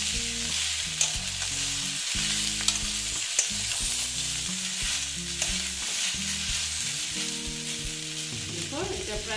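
Boiled young jackfruit pieces with a little turmeric fry in a pan for a Bengali echor kalia, a steady close crackling sizzle with occasional stirring knocks, heard under background music.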